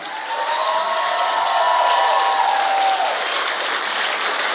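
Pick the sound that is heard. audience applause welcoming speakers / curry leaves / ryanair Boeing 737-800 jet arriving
audience applause welcoming speakers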